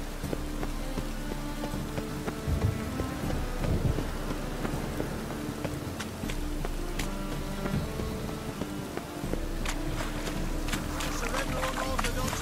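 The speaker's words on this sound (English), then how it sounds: "A storm, damn it." A thunderstorm pours steady rain, a dense hiss of drops mixed with low rumbling thunder swelling and fading throughout, with some voices faintly under it.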